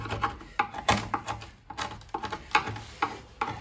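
Scraping and rasping as the rotten cavity inside a wooden saz body is cleaned out, a steady run of short, close, uneven strokes and scratches against the wood, with no talk.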